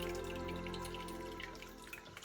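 Kefir pouring from one vessel into a bigger container, a steady liquid trickle and splash with a few dripping spots, close by and alone with no talk.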